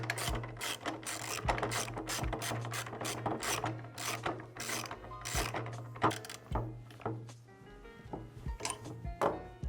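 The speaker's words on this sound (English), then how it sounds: "Take your other peg and the nut and tighten it up and you're good to go." A ratcheting tool tightens a peg nut onto the rear axle of a custom-built pro scooter, a steady run of rapid mechanical clicks and rasps with short pauses between strokes, close up and with no talking.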